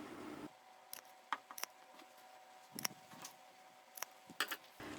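Scissors trimming the corners of sewn fabric, a series of quiet, sharp snips in irregular clusters against near silence.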